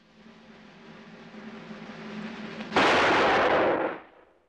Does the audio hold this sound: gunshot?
yes